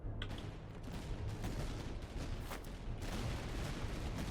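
Cannon and musket fire crackle and boom without pause across a battlefield in the Master of Command strategy game, dense overlapping blasts that are loud and continuous, with no voices.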